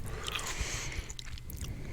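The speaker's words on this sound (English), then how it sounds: "I'm still chewing into the microphone." Wet, squishy chewing right up against a microphone, a close, continuous mastication sound with faint crunching over low background rumble.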